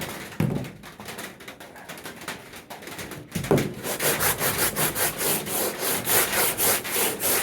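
Sandpaper worked by hand over a truck toolbox, a quiet scrape at first, then steady rhythmic rubbing strokes growing louder and regular, roughly two per second, with faint bird cooing in the background.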